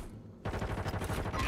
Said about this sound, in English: What the fuck am I getting sniped by?